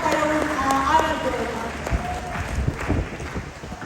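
A few hands clap unevenly at a company second-anniversary event. Sparse single claps ring out over a murmuring room, with background voices throughout.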